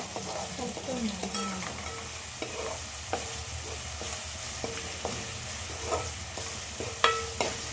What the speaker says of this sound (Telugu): కాబట్టి కలుపుతూ ఉంటుంటే అడుగు అంటకుండా చూసుకోవాలి